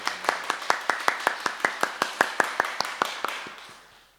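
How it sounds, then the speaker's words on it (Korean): A congregation at a dawn worship service claps in thanks: about twenty crisp, evenly spaced claps in a brisk unified rhythm, close and clear, tapering off and fading out at the end. "오늘 이 새벽에 아버지 하나님께 우리 감사의 박수를 올려드릴까요?"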